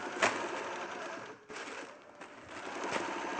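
Sewing machine stitching down a seam, a moderate whirring run broken by a brief pause near the middle before resuming, close by with no speech.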